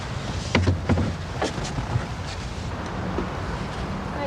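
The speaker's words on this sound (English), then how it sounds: "The engine is very noisy." A big boat engine runs with a loud, steady low rumble and a few sharp knocks near the start, continuing unbroken and without speech.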